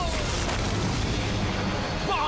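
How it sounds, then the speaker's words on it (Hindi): A Super Mega Blaster firing, heard as a loud, sustained explosive roar with rumbling bass that fills the whole moment, mixed with broad noise from a battle scene in an action show. "super mega blaster fire"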